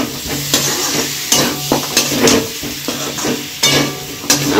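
Garam masala being stirred into mutton biryani in a pot, a spoon scraping through the thick mixture in repeated strokes with a steady background sizzle, close and fairly loud, no talking.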